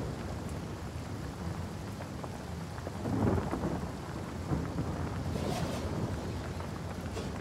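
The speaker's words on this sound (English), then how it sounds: "It's raining. It's pouring" Steady rain with low rolling thunder in the fantasy role-playing game Divinity: Original Sin Enhanced Edition, a continuous downpour hiss with a louder thunder swell near the middle and no talking.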